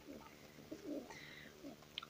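Pigeons murmur with soft, low cooing in short phrases, faint and close, plus one brief higher peep near the end.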